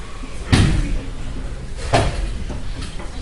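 Stage sound effect of doors being broken through during a school theatre production: two heavy crashing thuds about a second and a half apart, followed by fainter knocks, in a reverberant hall.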